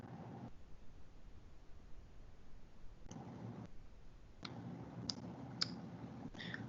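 A mouse clicks the Submit button in Blackboard, a few faint, sharp ticks scattered over a soft hiss of background noise, with no voice.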